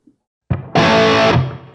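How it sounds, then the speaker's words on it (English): An electric guitar played through a Line 6 Helix with room reverb added gives a quick picked note, then a loud sustained distorted chord ringing for over half a second before it fades into a reverb tail. "now I'm going to add some reverb"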